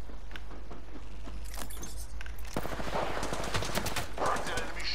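Rapid video game gunfire bursts from bandit enemies while the player is under fire, dense automatic shots crackling close over a low constant hum, with talk over the action.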